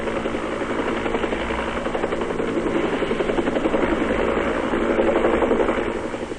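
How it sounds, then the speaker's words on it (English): Royal Australian Air Force helicopter gunship flying during an aerial assault in Vietnam, a steady loud rotor drone with rhythmic blade thumping that swells slightly, continuous and alone throughout. "Aerial assault on the enemy is also shared by helicopter gunships of the Royal Australian Air Force."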